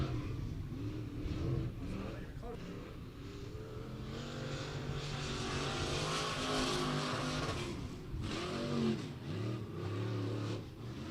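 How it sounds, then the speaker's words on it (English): A race car runs a solo qualifying lap at Beckley Motor Speedway, its engine revving and rising and falling in pitch as it drives around the short oval, mid-distance and steady with brief lifts, faint talk underneath. "First car out to qualify out of Fayetteville, West Virginia is going to be Ron Perry in the 23P."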